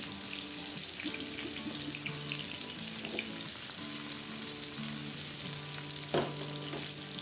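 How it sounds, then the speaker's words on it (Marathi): Pomfret fish fries in oil in a pan on medium heat, a steady, moderately quiet hiss and sizzle with faint crackles, the pan being tilted and turned, and no talk. "अशा प्रकारे आपल्याला तवा फिरवून फिरवून पापलेट फ्राय करून घ्यायचे"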